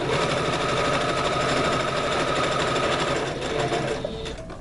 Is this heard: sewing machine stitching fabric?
yes